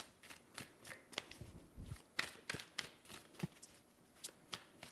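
Close, quiet shuffling of a tarot deck: irregular crisp card slaps and papery flicks in short bursts, with soft rustling between them and no voices.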